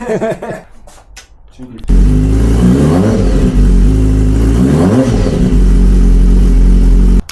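A 2013 BMW S1000RR motorcycle engine fires up quickly after brief clatter. It settles into a loud, close running idle with a couple of throttle blips rising and falling.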